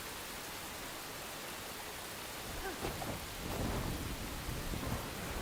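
Steady heavy rain in a stormy spell of the game Enshrouded hisses throughout, and a deep rumble of thunder swells in the second half and stays loud.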